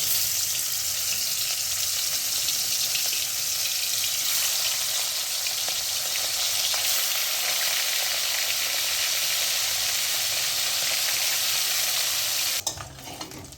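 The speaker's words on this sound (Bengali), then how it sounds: "এখন আমি মাছগুলো ভেজে নেব।" Bhola fish sizzles and crackles steadily in hot oil in a home kitchen, with a loud, continuous frying hiss, near and unbroken, ending in a brief clatter just before the end.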